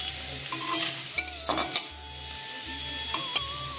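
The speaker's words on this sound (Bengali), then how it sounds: "তেল গরম হয়ে গেছে, আমি ফোড়নে দিচ্ছি কালো জিরে আর শুকনো লঙ্কা, আর দিয়ে দিলাম রসুন কুচি" Black cumin, dry red chilli and chopped garlic crackle and sizzle in hot mustard oil, a steady frying hiss with sharp spatter pops and a few utensil scrapes, no voices.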